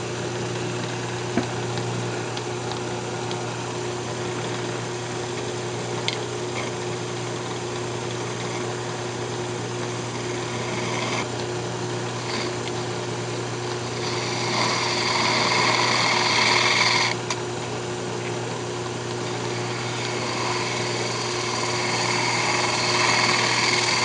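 Wood lathe spinning a remounted lidded box while its bottom is cleaned up, a steady motor hum with gritty cutting noise swelling louder in the middle stretch and again near the end, close and with no talking.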